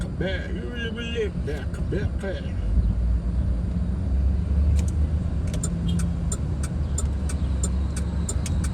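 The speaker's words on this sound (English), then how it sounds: "Look at this car going that way. It's like a 48 Dodge." An old 1948 Dodge car drives past on a street in Paducah, Kentucky, on prom night. Its engine rumble swells and then fades under steady outdoor traffic noise while people talk nearby.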